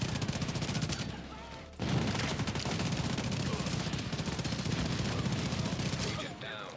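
Enemy gunfire in the Division 2 shooter: sustained bursts of automatic weapons rattle almost continuously, with a brief lull near the start before dense overlapping shots resume, loud and close, then fade at the end.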